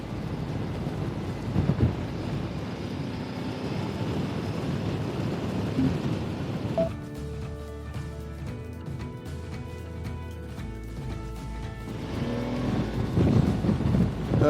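An Aprilia Tuareg 660 in its A2 version, a 660 cc trail motorcycle, revs and accelerates on a test ride, a steady loud engine drone with rising tones mixed with rushing wind noise.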